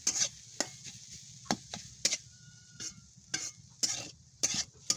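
Boiled noodles are tossed in a pan with a ladle, sharp irregular clacks and scrapes of metal on the pan over a faint background sizzle.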